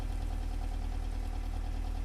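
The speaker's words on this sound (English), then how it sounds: "This rain. appears to be Lady Boffington's car." A car engine idles steadily with a low, even rumble and faint knocking pulse, continuous and close, with no voices.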